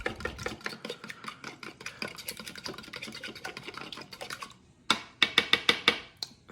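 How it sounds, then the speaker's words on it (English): Quick clicking taps of a whisk against a mixing bowl while baking, a steady run of light strokes that pauses briefly, then returns as a handful of sharper, louder clinks near the end. "This is called whisking. And you can whisk a lot faster."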